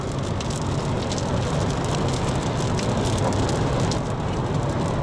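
Steady rain falls in a dense, even hiss, close and constant, with no voices, in Perryville and Havre de Grace, Maryland.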